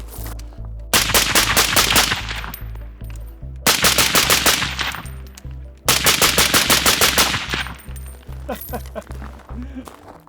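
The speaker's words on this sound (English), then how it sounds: "we're gonna fire a few rounds here at close quarters" An assault carbine fires at close quarters on an outdoor range in three loud, rapid bursts separated by short pauses, each ringing out sharply before the next.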